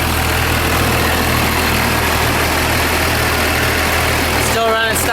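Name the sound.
Cummins diesel rat rod engine idling with HX35 turbo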